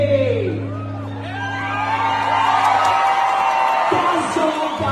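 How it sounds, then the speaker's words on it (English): A rally crowd for a candidate whoops and cheers loudly at close range, a swell of overlapping yells and shouts that keeps building, with a loud sustained tone at the start and speech mixed in. "And they're cheering."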